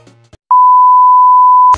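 A mobile phone in the video game Insane Elevator gives a loud, steady electronic beep lasting just over a second, after a brief snatch of quieter game sound.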